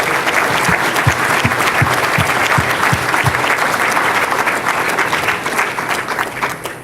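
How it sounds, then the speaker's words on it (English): Audience applause at a city's annual State of the City address, a dense, steady wash of clapping from a large crowd in a hall that holds for several seconds before tapering off slightly at the end. "Our department head team, I wish you'd give them a round of applause."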